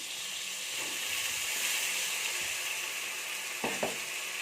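Ginger garlic paste sautés in hot oil with a steady, moderate sizzle and hiss, a couple of soft stirring knocks rising briefly near the end.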